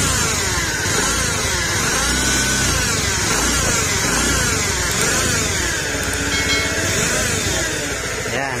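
A Honda Beat FI scooter engine with a worn crankshaft bearing runs continuously up close, giving a loud, harsh, gravelly mechanical drone with a rough whining edge and no talking.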